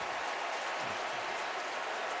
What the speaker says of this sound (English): Pickup of 22 to Fitzgerald, and the crowd loves it.